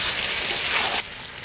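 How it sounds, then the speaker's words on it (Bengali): Desi chicken sizzling as it is sautéed (kosha) in a pan, a steady bright hiss for about a second that then drops to a quieter sizzle. "মাংস সুন্দর কষানো হয়ে গেছে"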